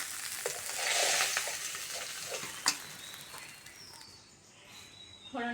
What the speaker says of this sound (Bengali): মাছ ভাজা হয়ে গেছে, তেল থেকে তুলে নেব